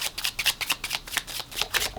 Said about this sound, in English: for an overhand shuffle, it just looks like this